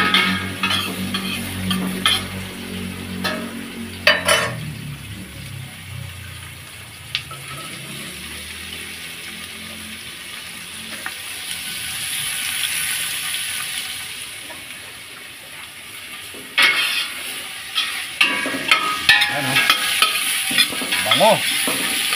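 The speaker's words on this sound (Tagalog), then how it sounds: "Gigisa muna natin siya sa sibuyas at luya" Native chicken sautéed with onion and ginger sizzles steadily in a pan, with intermittent scraping stir strokes and a brief stretch of running tap water partway through, close and fairly loud.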